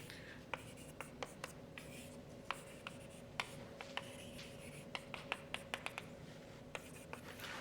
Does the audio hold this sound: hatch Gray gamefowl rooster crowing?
no